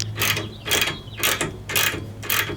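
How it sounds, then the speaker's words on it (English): A 9/16 ratchet tightens steel grade 8 bolts on a rack, giving five quick, close bursts of clicking at an even rhythm with short pauses between strokes. "you could use the same 9/16 ratchet to start with the same configuration. Tighten that center."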